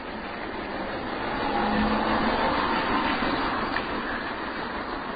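Road traffic sounds as a continuous broadband rumble and hiss of passing cars, swelling a little louder in the middle then settling, with no voices.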